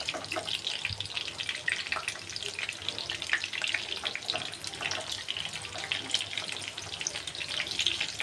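Chapli kebab frying in a pan over medium-low heat, a steady crackling sizzle with dense pops that holds throughout, close and fairly quiet with no talk.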